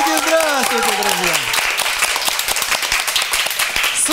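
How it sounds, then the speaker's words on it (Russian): A studio audience at a televised cooking show claps in a dense, continuous burst, with a voice talking over the start of the applause. "Судя по аплодисментам в студии"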